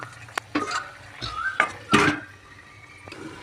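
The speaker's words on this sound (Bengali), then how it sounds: "এরপর আমি চাপা দিয়ে দেবো।" A metal lid set down over a cooking pot of okra and prawns simmering in water, giving a few sharp clanks and clinks close by, with one louder metallic knock near the middle and no talk.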